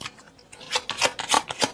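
Oracle cards being shuffled by hand in close, quick papery riffles and slides, a rhythmic run of soft bursts with no talk.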